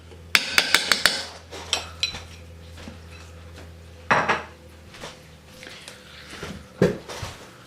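A metal spoon working against a bowl while scooping deviled egg filling, heard as a quick run of sharp clinks and scrapes at the start, then scattered single taps and scrapes, close and clear with no talk.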